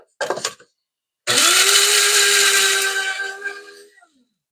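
An electric grinder whirs through freeze-dried turmeric: a brief burst, a pause, then a sustained loud motor whine lasting a few seconds before winding down, near and alone.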